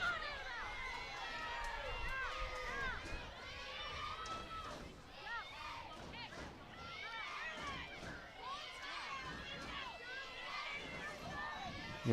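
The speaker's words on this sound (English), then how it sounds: "Hearing strong defense chants from the crowd here." A crowd at a girls' varsity lacrosse game between Darien and St. Paul's keeps up loud, rhythmic defense chants and shouting, with many voices rising and falling throughout.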